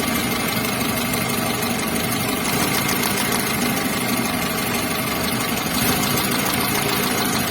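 A Triumph T120SS motorcycle engine with stuttering and power loss idles steadily and close during a cylinder two spark plug test, a dense rattling drone with a slightly uneven, knocking pulse throughout.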